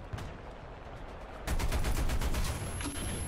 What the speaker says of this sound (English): Let's see if we can't lob some shots over there.